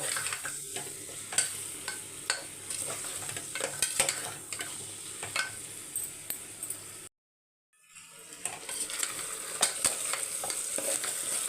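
Masala of turmeric, ginger-garlic and shallots sizzles and fries in a pan, close by, while a spoon scrapes and stirs in repeated strokes. The sound drops out briefly midway, then resumes.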